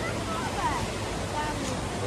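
Calm sea waves washing onto a shore on a cold day after rain, a soft continuous wash of surf with light wind noise and no distinct breaking crashes.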